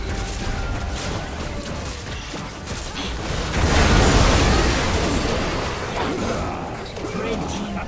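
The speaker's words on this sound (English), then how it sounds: "Blue team's inhibitor has been destroyed." In League of Legends, an inhibitor is destroyed amid busy game combat, with a swelling rumbling blast and crackling debris rising midway over layered ability effects, as an announcer voice speaks.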